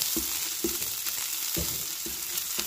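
Beyond Meat sausage sizzling in olive oil in a pan, a steady frying hiss with about five soft scraping stirs as the meat is broken up, close and alone without talk.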